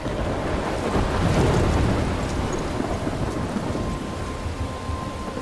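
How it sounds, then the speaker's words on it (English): A thunderstorm in the video game Life is Strange: steady, loud rain hissing alongside low rumbling thunder and wind, continuous throughout with no talking. "I'm trapped in a storm?"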